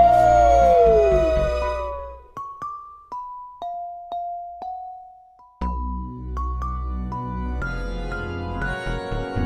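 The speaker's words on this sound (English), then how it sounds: "Howl like a werewolf, ow, ow, ow." A werewolf-style howl rises and falls at the start of a children's Halloween song, then gives way to a run of bright, evenly spaced bell-like musical notes.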